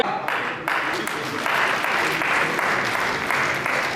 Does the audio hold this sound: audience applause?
yes